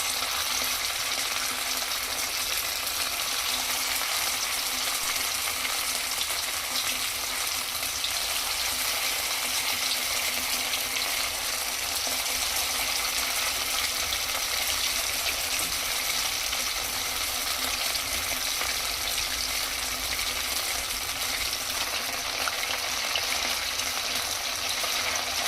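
Chicken kofta balls fry in hot oil with a dense, even sizzle that hisses loudly and without a break for the whole stretch, with no speech.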